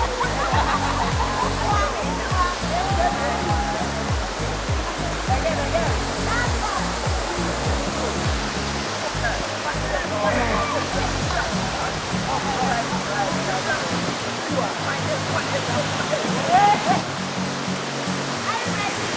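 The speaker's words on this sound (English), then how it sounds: "this waterfall that we are seeing behind here" A waterfall in Aburi, Ghana, pours in a steady, loud rush of falling water that continues without a break, with a person talking over it.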